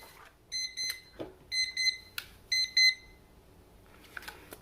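A kitchen-style timer alarm sounds in clusters of rapid, high electronic beeps, several repeated bursts with short pauses between, clear and close with no talk.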